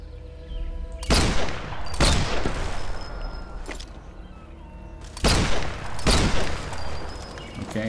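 Gunfire in Sniper Elite 4: several loud, sharp shots spaced a second or so apart, each with a long rolling echo over a steady background hum.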